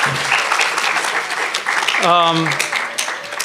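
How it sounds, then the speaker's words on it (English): An audience applauds the artists in a thick, sustained wash of clapping, with a voice briefly rising above it partway through. "that's a round of applause for all the people who are doing their art"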